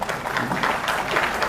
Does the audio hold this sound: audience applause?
yes